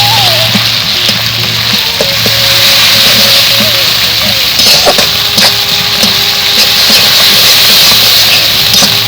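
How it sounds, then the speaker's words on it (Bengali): Spice paste of garlic, cumin-coriander, dried red chili and turmeric frying in a pan for chicken biryani, a steady broadband sizzle throughout with faint clinks and a background hum. "এবার আমি মশলা ভালোভাবে কষিয়ে নেবো"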